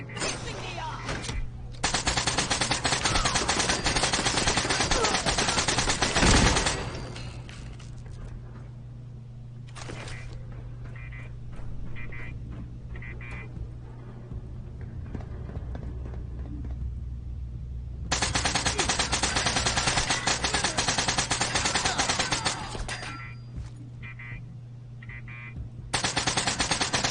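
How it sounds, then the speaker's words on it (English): An automatic gun in the Fallout video game fires in long, loud, rattling bursts, with several seconds of sustained fire separated by quieter stretches of game sound and occasional talk. "This gun is really hard to control."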